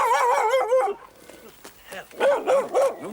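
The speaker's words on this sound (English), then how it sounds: "Good boy, that's an attack dog, that is." An Alsatian trained as an attack dog barks and growls in repeated bursts at close range, with a voice also audible in the same stretch.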